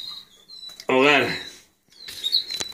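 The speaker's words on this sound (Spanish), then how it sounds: "vamos a incorporar los pájaros" Canaries being moved into a new cage give high thin chirps and tweets around a burst of human voice, close and fairly loud with cage rustling between calls.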